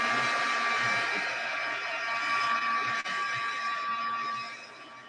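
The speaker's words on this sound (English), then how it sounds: "let's give this a bit of a heat gun so it can dry faster" A heat gun blows hot air to dry a piece of craft work, a steady loud whirring hiss with a high whine that holds throughout and eases slightly near the end.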